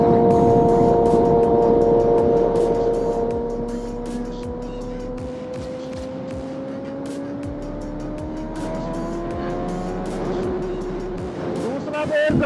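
A Suzuki Hayabusa motorcycle accelerating hard in second gear, a steady rising engine whine climbing in pitch over several seconds, loud and close with wind noise, while someone talks over it.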